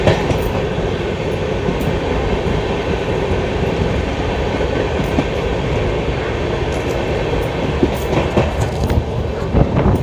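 A diesel-hauled long-distance express, the 15624 Kamakhya train running near 130 km/h, roars along the rails with a loud continuous rumble, rattle and scattered wheel clicks, heard from on board.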